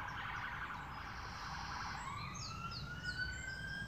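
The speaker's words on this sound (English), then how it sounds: "Speaking of noise, the sirens." A distant emergency siren wails through steady background rumble, its pitch sweeping and rising in long tones.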